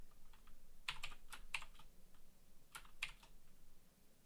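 Soft keyboard typing as a math expression is entered, a handful of light, spaced key taps heard faintly over quiet room noise.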